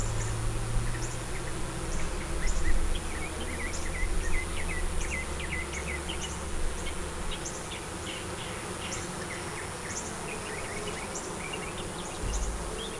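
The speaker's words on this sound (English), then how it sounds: "Little baby bees are jumping on me and then trying to figure out how to get back to where they were at." Honey bees buzz steadily around a hive frame holding brood and honey, a dense close insect drone filling the whole stretch with faint bird chirps in the background.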